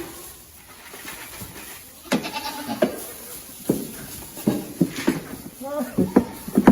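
Goats bleat on Muscoot Farm, a series of short, fairly close calls that grow more frequent toward the end, over outdoor background noise with birds faintly audible.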